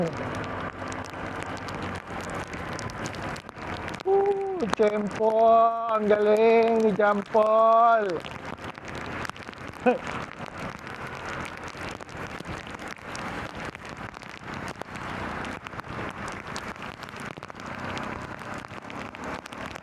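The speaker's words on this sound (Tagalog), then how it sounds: "Binuhos na ng todo ang ulan" Heavy rain pours down in a constant loud hiss in Tagaytay, Philippines, while a person talks briefly over it.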